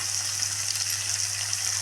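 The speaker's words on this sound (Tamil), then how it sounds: "1/2 கப் கேரட் ஆட் பண்ணிக்கோங்க." Potatoes and carrots fry in a pan for wheat rava kichadi, giving a steady, dense sizzle that holds evenly with no one speaking.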